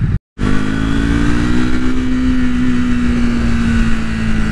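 A 2024 Triumph Speed 400 motorcycle engine revs steadily and accelerates, its loud, close drone rising slightly in pitch, broken only by a brief cut near the start.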